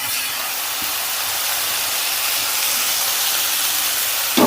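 Drumstick pieces sizzling in hot oil in a pan for a drumstick curry, a steady broad hiss lasting throughout with a brief clatter at the end.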